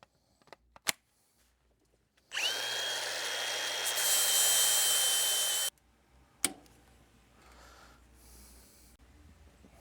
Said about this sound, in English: We're going to grind this off using this Milwaukee grinder as soon as I put a battery on it.